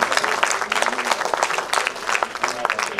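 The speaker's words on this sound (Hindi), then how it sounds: "एक बार जोरदार तालियां बजाओ" Hearty audience applause at a mushaira poetry gathering, a close, loud crowd clapping with crisp individual claps standing out in an uneven, lively burst.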